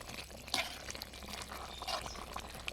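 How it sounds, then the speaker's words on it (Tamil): Quail gravy bubbling in a pot at a steady boil, a soft continuous liquid simmer with small pops and gurgles, close and fairly quiet, no voices. "கொதி வந்து நல்லா வேகுது பாருங்கள்."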